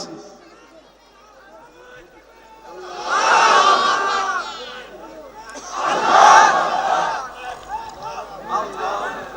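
A crowd at a religious sermon shouts slogans in two loud, surging waves of massed voices answering a leader, with quieter murmuring and chatter between the bursts.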